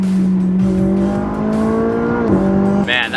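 A Nissan GTR sports car engine drones with a steady, strong tonal hum that dips briefly and returns, heard up close and loud with no talking.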